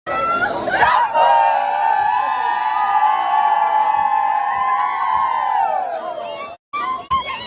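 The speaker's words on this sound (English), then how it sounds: "Come on, crowd, put your hands up for Keith Lee." A crowd at an HBCU event at Dillard University cheers for a celebrity, a loud, sustained roar of shouts and whoops that fades out near the end before a brief final burst.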